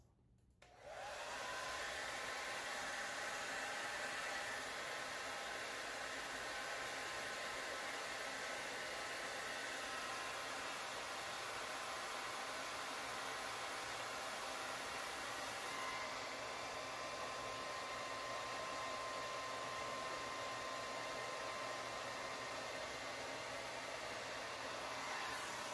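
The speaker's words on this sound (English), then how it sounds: "I'm gonna try the hair dryer trick." A hair dryer starts up and blows continuously and loudly for over twenty seconds, aimed at cheap automotive heat shrink tubing, a steady whooshing roar with no talk.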